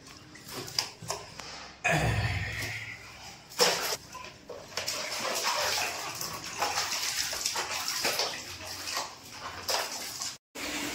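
Bath water splashing and sloshing in a home bath, with irregular splashes of varying loudness close by throughout, and occasional faint voices.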